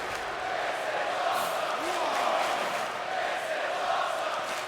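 A wrestling show crowd cheers and roars in a dense, continuous wash of voices, with occasional whoops rising above the steady din.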